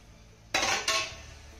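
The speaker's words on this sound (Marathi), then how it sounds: "यावरचं झाकण काढूया।" A steamer pot lid lifts off after stuffed colocasia leaf rolls steam for 10 to 12 minutes, giving two quick metallic clanks close by, then a fading ring over quiet kitchen hiss.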